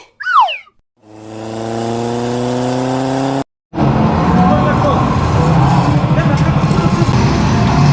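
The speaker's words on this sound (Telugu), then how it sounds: "అభిగాడు కార్ రేసింగ్ ఆడతాడంట" An arcade car racing video game plays at an amusement park. Synthetic engine tones rise and hold, then a loud steady rush of game engine and tyre noise fills the rest, with a brief sweeping chirp at the start.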